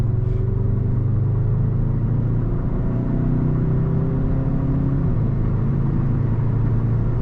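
A 2021 Škoda Octavia RS 2.0 TDI cruises along the road, its diesel engine giving a steady, loud, low rumble with a constant whir throughout and no speech over it.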